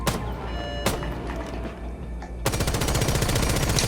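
Pistol shots in Rainbow Six Siege, a sharp crack near the start and another close to one second, then a dense run of rapid, loud shots through the final second and a half, with no talk.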